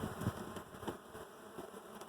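Honeybees buzzing close by during a beehive frame inspection, a faint steady drone with soft handling bumps underneath.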